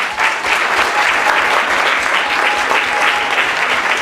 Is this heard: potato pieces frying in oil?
no